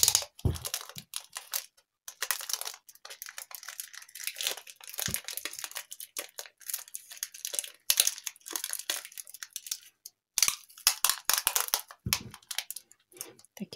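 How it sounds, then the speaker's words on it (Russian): Sticky tape being pulled and torn while fastening tangerines together into a winter bouquet, a series of close, crackly ripping and crinkling bursts separated by short pauses, with no talking. "И закрепляю скотчем."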